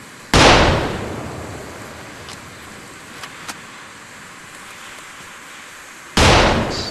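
Flashbangs detonate during advanced medical training: two loud, close, sharp blasts a few seconds apart, each trailing off into a rumbling echo, with a quiet hiss between them.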